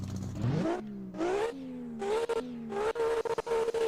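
Engine of a battered free starter car with twin turbos in a Roblox racing game, revving loudly in repeated rising pulls that hit the limiter, with rev-cut stutters toward the end.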